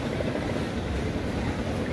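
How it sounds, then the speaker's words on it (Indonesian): Roaring machinery at a tin mining site on Bangka Island, heard as a steady, dense low rumble with no breaks, moderately loud and unbroken throughout. "Bisa kita dengar suara-suara mesin menderu-deru. Itu adalah pertambangan"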